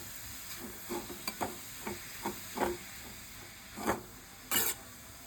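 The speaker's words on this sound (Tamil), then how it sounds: "இப்போ ஒரு கடாயில் கிரேட் பண்ணி வச்சுருக்க பம்கினை போட்டுக்கலாம். கேஸை சிம்மில் வச்சுட்டு நல்லா வசக்கி விடணும்." Grated pumpkin being sautéed in a kadai over a low gas flame for halwa gives a soft, steady sizzle, with repeated scraping strokes of a spoon stirring against the pan at an irregular pace.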